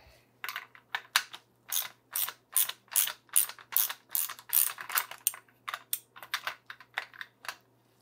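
A 26 mm flat-sided, chamferless socket and ratchet unscrew a stiff part from a FOX 34 FLOAT GRIP fork damper. A quick run of close, sharp ratchet clicks comes in irregular bursts, with no talking.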